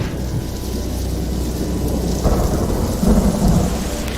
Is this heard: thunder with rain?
yes